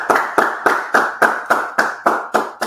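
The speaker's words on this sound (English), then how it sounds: "clap it up" Nine evenly spaced, sharp claps in a steady rhythm from a small group at an Israelite School of Universal Practical Knowledge street gathering in Goldsboro, each crisp strike close and clear with brief decay between.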